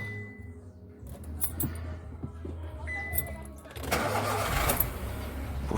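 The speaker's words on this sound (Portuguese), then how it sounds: "é dar a partida no carro agora" A parked car in neutral is cranked and its engine catches partway through, rising into a rough running sound, while a person talks nearby.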